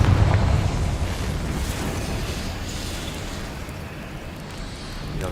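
A Confringo fire spell explodes in Hogwarts Legacy with a loud booming burst at the start that trails into a long rumbling, hissing decay and fades into background noise.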